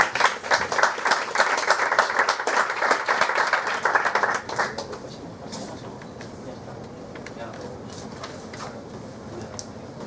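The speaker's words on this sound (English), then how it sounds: "Give an applause to David." An audience applauds speaker David at a Python meetup talk, a loud burst of many hands clapping for about four seconds that then fades to scattered claps and room murmur.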